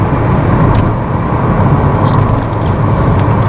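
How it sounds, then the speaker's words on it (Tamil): Steady, loud road noise inside a Kia Sonet while driving, a dense continuous rumble with a mild wind hiss over it, with no talking. "ரோட் நாய்ஸ் மட்டும்தான் இருக்குது, விண்ட் நாய்ஸ் மைல்டாக தான் இருக்குது"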